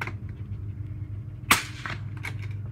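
A single suppressed shot from a 17 HMR rifle fitted with a Thunder Beast Ultra series suppressor gives a sharp, fairly close crack with a brief tail, heard alone over steady low background noise.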